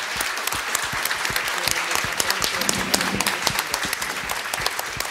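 Audience applause for the panelists at the close of a 2012 media forum session, a dense, steady wash of many hands clapping that holds evenly throughout with faint voices underneath.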